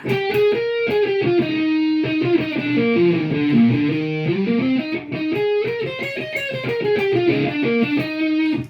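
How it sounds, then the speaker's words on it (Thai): A distorted electric guitar played through a MOOER GE-100 multi-effects unit plays a melodic line of sustained, gritty notes, loud and close, with no talking. "อ่านี่คือเสียงแตกของลูกค้า"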